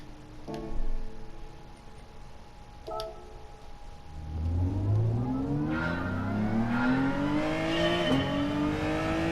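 A race car in Gran Turismo 7 shifts through gears. A couple of sharp clicks come first, then the engine note climbs in rising revs as the car accelerates hard, loud and close.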